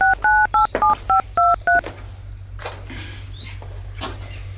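A phone is dialed with a quick run of about eight sharp keypad tones close to the microphone. Faint room noise follows once the dialing ends.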